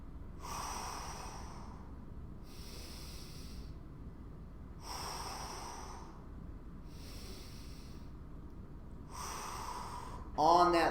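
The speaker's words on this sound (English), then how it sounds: "Take 3 deep breaths here" Slow, deep breaths during a hip, shoulder and upper back mobility stretch, heard as several soft breathy swells spaced a few seconds apart over a faint background hum, ending with a brief noisy rustle.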